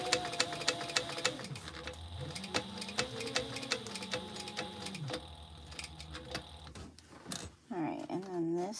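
A sewing machine stitches a crossbody bag with a fast, steady, close needle chatter whose motor pitch rises and falls across several runs, then pauses, with speech at the end.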